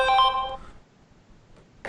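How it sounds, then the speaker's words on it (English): A loud telephone rings in a radio studio during a live talk show, one bright trilling burst that cuts off, then near silence before a second ring starts at the end. "That was a loud phone call, and very distracting."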